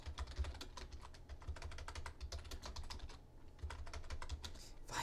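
Fingers type steadily and quickly on a computer keyboard, a close, quiet run of key clicks with a low background hum.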